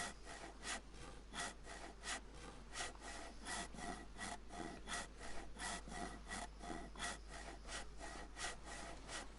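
Steady back-and-forth strokes of a hacksaw cutting through wood in the DayZ video game, rhythmic and close, running continuously with no talking.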